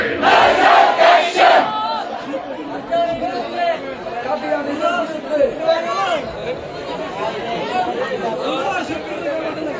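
A large crowd at a religious gathering chants Allahu Akbar, opening with a loud unified shout, then settling into a rhythmic, massed chant and murmur that carries on steadily.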